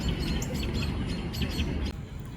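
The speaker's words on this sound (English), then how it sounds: "some very, very angry birds" Several birds chirp rapidly and insistently close by, sharp overlapping tweets over a dense, rumbling background.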